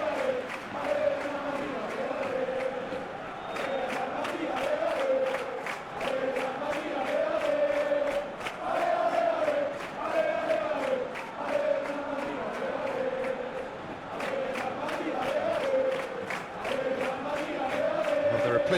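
Capacity stadium crowd in a PES 2021 Champions League match between Real Madrid and Manchester City: a steady, roaring wash of chanting and cheering fans fills the space, with rhythmic clapping pulses throughout and no break in the din.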